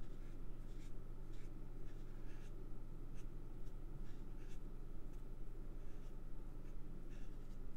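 A worn pen nib scratches on paper while drawing shading, a close, quiet rasping with repeated short strokes in a fairly regular rhythm over a low steady hum.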